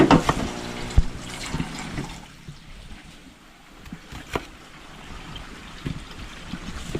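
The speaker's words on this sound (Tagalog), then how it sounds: "Lalagyan natin ng kunting tubig." Water is poured into a cooking dish of food with tomatoes, a short liquid splash and trickle at the start followed by soft clatter and faint kitchen handling sounds nearby.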